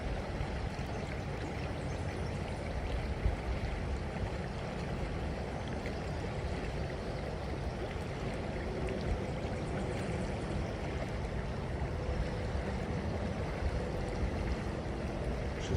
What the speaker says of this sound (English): They said this current's moving pretty quick.